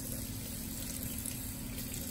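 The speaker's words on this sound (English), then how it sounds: "I'm just gonna go ahead and run it under water" Tap water streams steadily over a paintbrush in a sink, a continuous close rushing splash with no pauses.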